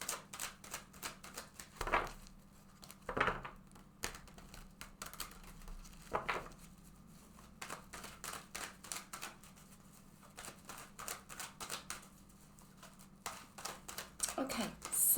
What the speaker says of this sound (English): So I'm just going to shuffle this deck several times.